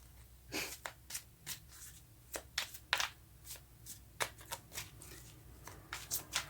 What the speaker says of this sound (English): The cards are not really wanting to shuffle very well.